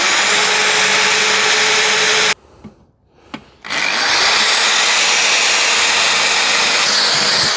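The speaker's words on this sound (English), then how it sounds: "we're going to drill through the steel" A power drill bores through a steel gate post while fixing a sagging Colorbond gate, loud and close with a steady whine, stopping briefly in the middle before starting again and running continuously.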